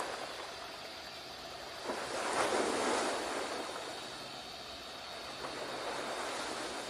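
Ocean waves wash onto a shore and drag back, one swell building and receding softly over steady low surf noise and faint wind.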